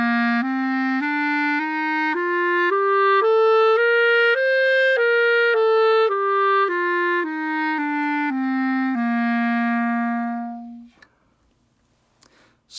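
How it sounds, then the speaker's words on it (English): Clarinet plays a smoothly slurred scale, rising step by step and then descending again without breaks between notes, close and clear, the final low note held before it fades out. "So if I want to slur that whole scale"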